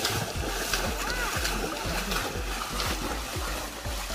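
A small boat moves through backwater, rhythmic paddle-like splashes and water churning under a steady low engine-like hum, close and continuous, with a voice talking faintly underneath.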